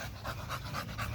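An American Bully dog of the West Coast Gotti line pants steadily and close, a quick rhythmic breathing that keeps going with no pause.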